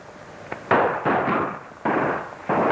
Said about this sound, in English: when we hear the explosion